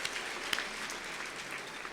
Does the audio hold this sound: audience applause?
yes